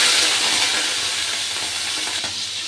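Shrimp coated in salt and turmeric fry in white oil with five-spice, dried chilli and bay leaf, giving a steady loud sizzle and hiss close by that carries through without a break.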